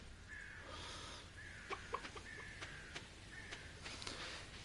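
Chickens in the Stardew Valley farm game clucking in a quiet string of short repeated calls, with a few sharp pecking clicks scattered between them and no talk over them.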